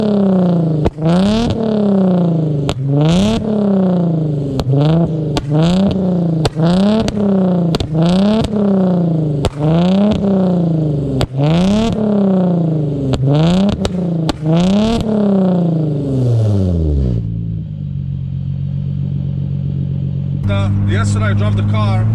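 An Infiniti G35 with a single eBay exhaust is revved hard in a series of about a dozen rapid blips, each rising and falling with sharp pops, then it settles to a rough idle.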